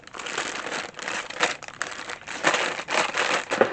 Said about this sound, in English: And they're very noisy, crinkly.